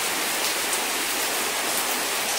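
Steady rain falls on a Friday in Makkah, a dense, even hiss of drops striking surfaces, loud and continuous with no voices.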